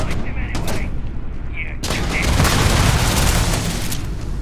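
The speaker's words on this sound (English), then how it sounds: "Big explosion." A grenade blast in the video game Starfield, a loud broadband roar that swells after a sharp onset and carries on as dense rumbling noise, with faint voices earlier.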